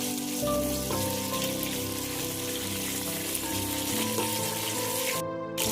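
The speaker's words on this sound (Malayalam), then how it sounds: "അതിലേക്ക് നമുക്ക് കറിവേപ്പില ചേർത്ത് നന്നായിട്ട് ഇളക്കി കൊടുക്കാം" Curry leaves fry in hot coconut oil in a pan, giving a steady loud crackling sizzle with soft stirring throughout.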